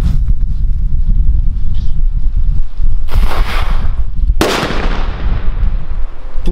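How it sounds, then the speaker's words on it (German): A loud New Year's Eve firecracker bangs once, then a second sharp blast follows, over heavy wind rumble on the microphone. "machen wir hier nochmal weiter mit ein paar einzelnen Böllern"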